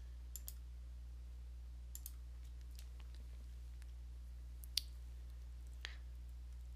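Mouse clicks in Acumatica Construction Edition accounting software, a handful of faint, isolated clicks spaced a second or more apart over a steady low electrical hum.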